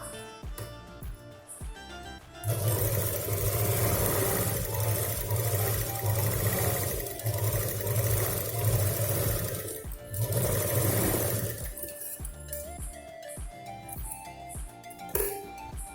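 A sewing machine stitches a zip into a purse, running in steady bursts of rapid mechanical whirring with short pauses, fairly quiet and without talk.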